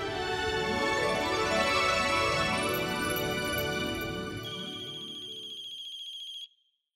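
A phone ringtone for an incoming call plays as a repeating melodic tune, steady and fairly clear, lasting around six seconds before cutting off abruptly, with no talk over it.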